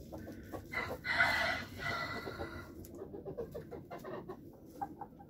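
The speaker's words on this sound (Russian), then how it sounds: "У меня золотистых 4 курочки." Several hens cluck and squawk nearby, a loud burst early on followed by steady, irregular clucking with no talking.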